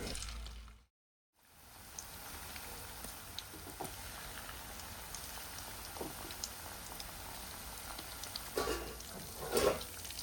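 Prawns fry in hot oil with a continuous fine crackle like light rain. The sizzle is faint and steady, briefly cuts out near the start, then grows a little livelier toward the end.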